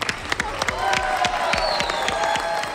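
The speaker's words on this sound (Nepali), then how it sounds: "यति धेरै हुटिङ कमै मात्र भएको मलाई थाहा छ जुन आज हुटिङ र ताली मिथिला शर्मा ज्यूका लागि" A dance competition audience breaks into dense applause and cheering after a dance performance, with steady rapid clapping and scattered whoops filling the room throughout.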